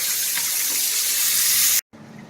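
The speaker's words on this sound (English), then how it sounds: "I'm going to rinse this off real good. Get it all rinsed." Running water from a tap rinses a Thanksgiving turkey, a steady loud gushing hiss over the sink that cuts off abruptly near the end, leaving a faint quieter tail.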